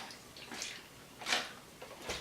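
A small developing tank holding 127 black-and-white film and developer is agitated by hand, giving three soft liquid sloshes spaced about half a second apart, close and quiet.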